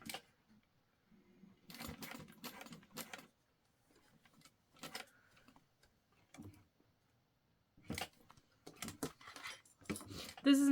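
A sewing machine stitching a box on the edges of a Rosie sling in short separate bursts of rapid close whirring, with quiet pauses between runs.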